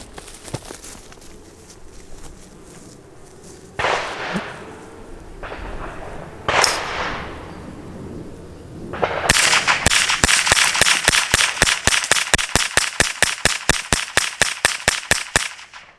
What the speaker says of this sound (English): I'm going to do a mag dump just on this one, so 20-25 rounds just on this